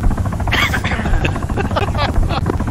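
A helicopter flies in the military simulation game ARMA, its steady loud rotor drone running continuously under people talking over it.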